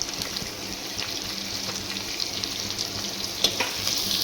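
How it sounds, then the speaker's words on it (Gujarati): Sliced onions sizzle and crackle steadily in hot oil while browning for veg Schezwan fried rice, with a continuous close frying hiss and a few sharper pops near the end. "અને કાંદાને પણ આપણે બ્રાઉન થવા દેવાના છે તેલમાં."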